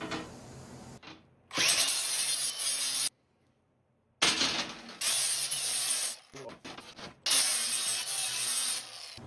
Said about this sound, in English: I'm going to go ahead and just hit that with a flapper wheel on all my edges